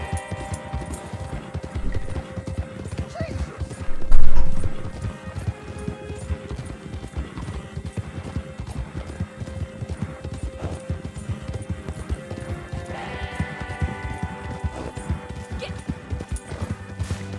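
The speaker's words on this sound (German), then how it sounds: "Zwei Mustang. Die haben nur Pferde raus." Horses gallop in Red Dead Online, a continuous rapid clatter of hooves at close range with one louder thud partway through and faint game sounds underneath.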